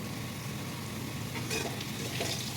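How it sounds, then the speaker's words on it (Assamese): Dried red chilies fry in oil inside a pressure cooker, a quiet, even sizzling hiss that swells slightly partway through, heard close with no voices. "শুকান জলকীয়া দিলোঁ অকণমান এইটো ভাজিবলৈ দিম"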